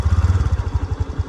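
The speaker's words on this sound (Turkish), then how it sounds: "şimdi motorumuzun çalıştırma testini de yapalım" Honda Spacy Alpha fuel-injected scooter engine running close by at a steady idle, with an even, rapid low thumping and no talk over it.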